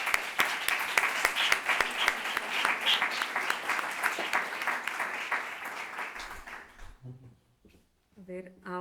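An audience at a university podcast launch gives sustained applause, steady dense clapping for about seven seconds that tapers off into quiet, followed by a voice starting to speak.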